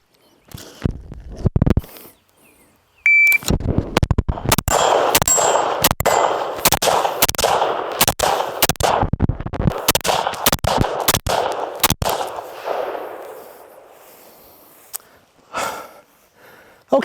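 Carbine gunshots crack in rapid strings, each followed by a ringing clang from a steel target, loud and close, with short pauses between bursts.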